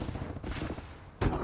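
Gunfire in Call of Duty: Advanced Warfare, a few short bursty shots with a louder, sharper crack near the end, close and dense over game noise, with no voices.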